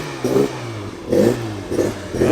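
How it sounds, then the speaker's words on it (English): A Mini's engine revs in short, purposeful bursts as the car pulls away at an outdoor car meet, three or four rising pulses close by and loud, with no talking. "Looks like the Mini's preparing to leave."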